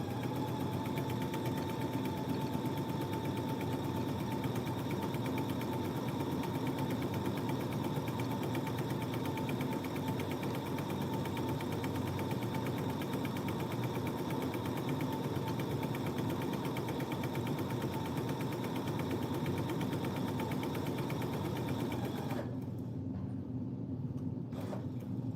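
A sewing machine stitches around the outline of a quilt with fabric lined up underneath, giving a steady, continuous motor hum for over twenty seconds before it cuts off near the end.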